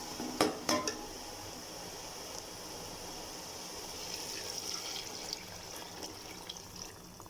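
Water poured into a pot of pulao masala for vegetable rice with peas and potatoes, making a steady close splashing stream that runs throughout, opening with a couple of sharp metallic clinks of the pot.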